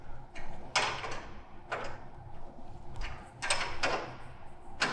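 Two 9/16 wrenches tighten jam nuts against each other on a cable swage, producing repeated close metallic clanks and scraping ratchet-like clicks in an irregular rhythm.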